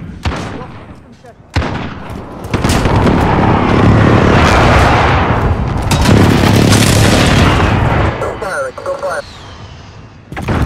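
Several heavy explosions from a friendly precision airstrike in a video game, rumbling loud and sustained for several seconds, with a sharp opening blast and faint voices mixed in.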